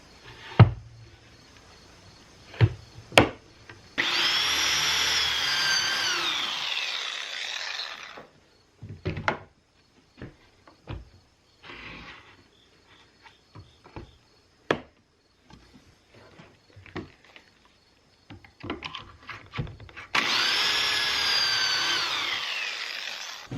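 Pocket holes drilled into a 32.5 by 14 inch board with a pocket hole jig for a metal storage shelf build: two loud, sustained drill bursts, each several seconds long, separated by quieter clicks and clunks of handling the board and jig.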